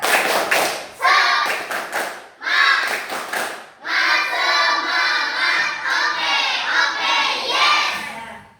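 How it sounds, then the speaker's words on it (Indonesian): Primary school pupils in a fifth-grade Islamic studies class perform a rhythmic 'tepuk semangat' clapping chant, sharp claps in patterned bursts with children's voices chanting along, loud and close in the classroom. "Nah, mana tepuk semangatnya? Tepuk semangat."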